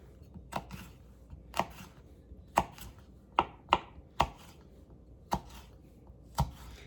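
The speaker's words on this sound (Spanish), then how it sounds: "Y ahora voy a hacer lo mismo con el chile. Vamos a hacerlo así, finito." A knife slicing chili pepper into thin strips on a cutting board for Salvadoran shredded beef: sharp, separate chops, about eight of them at an uneven pace, close and clear with no talk.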